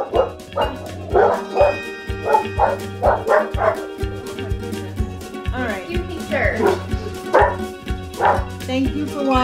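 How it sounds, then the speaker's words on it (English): Excited dogs bark and yip rapidly and repeatedly up close, with whimpers mixed in, over a steady hum in the background. "The dogs are very excited for today."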